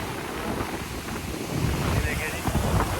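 Fast-flowing sea water and surf at Coral Island, Thailand, a continuous close rushing wash heavy with wind buffeting on the microphone, growing rougher midway.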